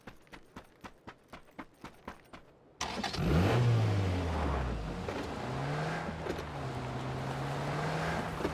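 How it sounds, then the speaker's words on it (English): A car engine in the video game PUBG starts loud and close after a run of steady, even footsteps, then revs and drones on with a rising and falling pitch as the vehicle drives. "there's a car"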